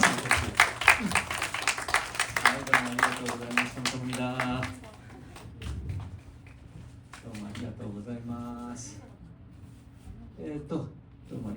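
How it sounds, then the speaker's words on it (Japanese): A theatre audience at a post-show talk in Tottori, Japan claps to welcome actors onto the stage, a burst of applause over the first few seconds, with a host speaking over the clapping and talk continuing afterward. "皆さん拍手でお迎えください。"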